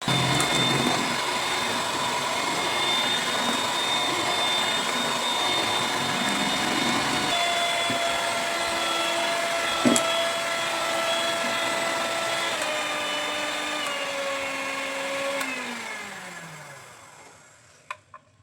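An electric mixer whisks batter for steamed pandan putu ayu cakes with a loud, steady whirring drone, then winds down, its pitch falling before it stops, with no voices.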